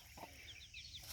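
Chickens clucking softly while being fed rice at a rural hillside home, a few short clucks and chirps close by over faint background noise.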